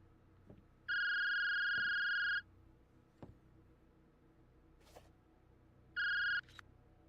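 A cell phone rings in the game Dark Nights with Poe and Munro: a long electronic ringtone burst, then after a pause a second shorter burst, loud and clear over a quiet background with faint clicks.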